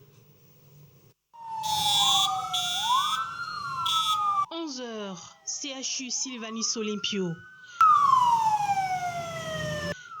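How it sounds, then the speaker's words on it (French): Ambulance sirens wail loudly outside a hospital emergency department during the Covid-19 pandemic, with several overlapping rising and falling tones that repeat, while a voice speaks over them. "Ces ambulances sont là pour récupérer 2 malades de Covid-19 aux urgences."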